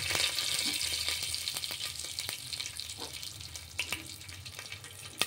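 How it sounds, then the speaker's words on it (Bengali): Panch phoron, a bay leaf and a dried chilli dropped into hot oil in a home kitchen, giving a soft, steady crackling sizzle with scattered small pops, close and fairly quiet, no talking. "তেলটা গরম হয়ে এসছে, দিচ্ছি 5 ফোড়ন। একটা তেজপাতা, একটা শুকনো লঙ্কা।"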